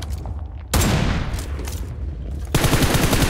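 Automatic gunfire in the mobile battle-royale game PUBG Mobile, heard alone with no talk: a loud sustained burst that starts abruptly, carries on steadily, then grows denser and punchier near the end.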